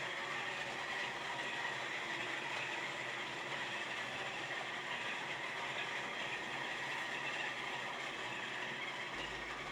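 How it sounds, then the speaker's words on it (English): Costa coffee beans crushed in an electric coffee grinder, a dense, steady whirring roar that holds unbroken for about ten seconds with no voices. "Let me put them in the grinder. It's going to be a bit loud for a second."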